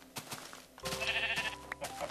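Sheep in the video game Minecraft bleat twice in quick succession, a fairly close, wavering cry over a low background, with no talking.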